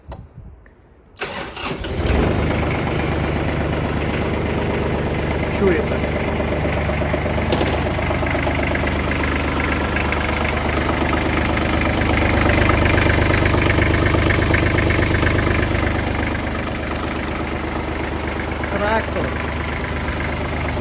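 A Kubota GL201 small tractor diesel engine cranks and catches, then settles into a steady, close, rumbling idle that swells briefly midway; a voice speaks once near the start.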